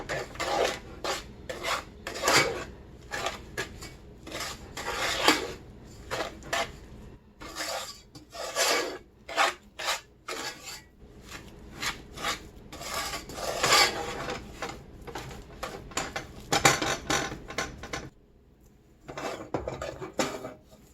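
Flour being stirred by hand into a Tudor short cake dough, a 16th-century cookie recipe: repeated scraping and rasping strokes of a utensil against a bowl, fairly close, in uneven bursts with brief pauses and no talk.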